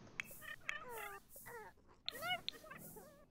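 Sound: cat meowing in a video game

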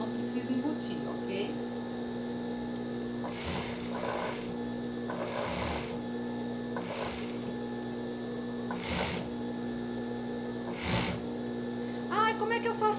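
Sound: sewing machine stitching a bra cup

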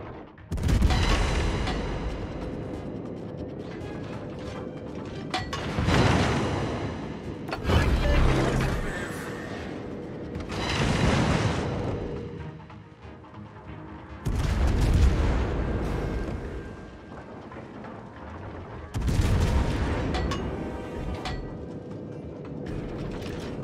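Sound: warship guns firing in a naval video game

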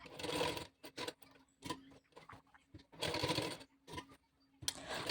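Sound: sewing machine stitching a blouse

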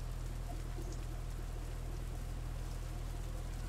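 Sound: rain in a fishing video game

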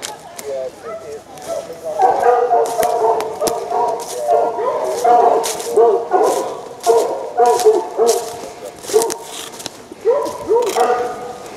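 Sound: hunting hounds baying at a fox earth

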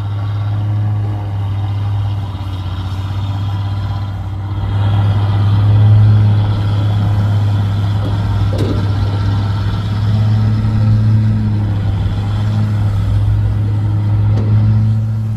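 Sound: Isuzu Rocky 195 truck engine revving while pulling away

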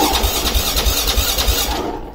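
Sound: Husqvarna TE510 2008 motorcycle engine being started

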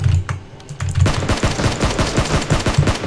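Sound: gunfire in video game PUBG Mobile

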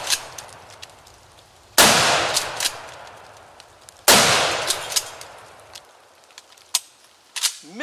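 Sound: Mossberg Shockwave shotgun fired one-handed with 3-inch shells

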